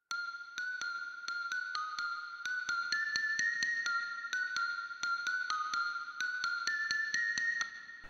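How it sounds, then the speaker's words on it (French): A small bell plays a repeating melody of bright struck notes at a steady pace, each note ringing out into a wide, reverberant wash. "Avec une petite cloche, avec aussi beaucoup de reverb."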